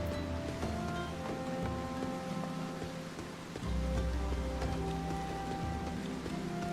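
Steady rain in Final Fantasy XIV's forest area of Gridania, a constant broadband patter with soft game music and ambient tones layered beneath, holding level throughout with a slight swell in the low end partway through.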